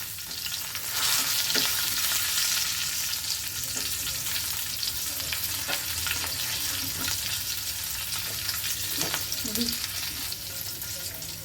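Curry leaves, bay leaf and green chillies sizzle steadily in oil on a tawa for home-made egg masala, a continuous close frying hiss with occasional pops and stirring, no talking.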